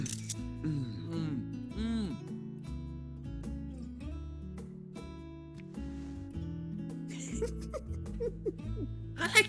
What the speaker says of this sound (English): Apologies, we keep hearing the shutter.